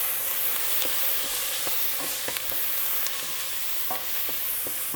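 Garlic sizzles steadily in a hot pan with a bright hiss, while a utensil scrapes and taps the pan now and then.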